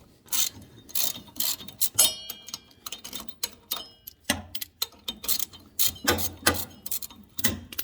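A wrench works the pulley nut loose on a Briggs & Stratton V-twin engine, making close, rhythmic metallic ratcheting clicks and clanks in short repeated bursts with brief pauses between.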